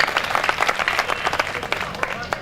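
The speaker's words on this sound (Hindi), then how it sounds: "ऐसे दायमत जी के लिए एक बार जोरदार ताली बजा दें" Dense, steady applause from a live audience at a Hindi comedy poetry gathering (kavi sammelan), many hands clapping continuously and loudly for the whole stretch with a busy crowd texture.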